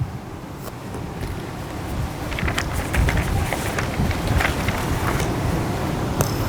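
Strong wind buffets the microphone at a beach wedding ceremony at a seaside resort, a steady loud roar with gusty low rumble and no voices.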